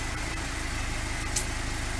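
A Lada 2102 car engine idles steadily nearby, a low rhythmic mechanical chug with a constant hum and no talking.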